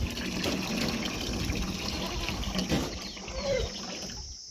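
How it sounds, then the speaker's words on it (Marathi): Water runs steadily from a tap at a goat farm, giving a soft hiss and gurgle that fades near the end. "नळाची कुंजी फिरवली की पाणी चालू."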